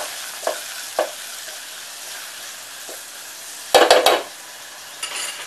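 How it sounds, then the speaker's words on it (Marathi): Curry leaves, onion and tomato sauté in a village kitchen pan, a steady frying sizzle broken by scattered stirring scrapes and a burst of louder clattering spoon strokes near the end, close by, with no voices. "छान परतून घेऊया"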